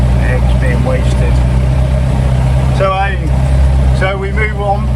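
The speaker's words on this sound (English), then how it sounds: "now I'm just driving the tractor over to my game cover" A farm tractor drives across a field toward a game cover, its engine a loud steady low rumble close by, with a voice speaking over it.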